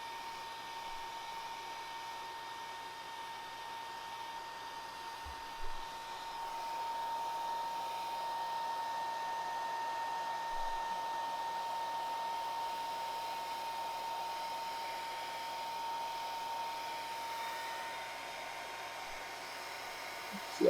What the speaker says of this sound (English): I'm just trying to heat it about as much as I can without scorching the stock.